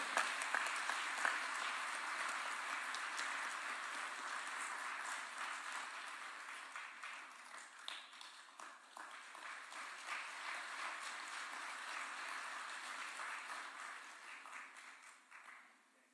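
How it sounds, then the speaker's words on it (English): An audience applauds at a swearing-in ceremony of senior counsel at State House, with sustained, fairly distant clapping from many hands that fades toward the end. "Another clap would be in order."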